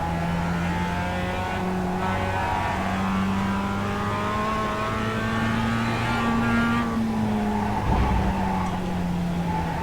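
A race car on the Mid-Ohio track, its engine holding a loud, steady drone through a corner with pitch rising and falling as the driver feeds in power, plus a brief thump near the end.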